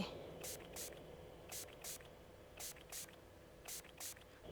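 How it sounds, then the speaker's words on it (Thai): Cleaning spray hisses out in short paired bursts within the Roblox game Amelia's cafe, four quick doubled sprays in a regular rhythm against a quiet background. "เอาสเปรย์ของสารมาฉีดเจ้านี่"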